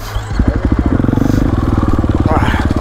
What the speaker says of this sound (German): deine Karre hört sich an, als hättest du keinen Krümmer drauf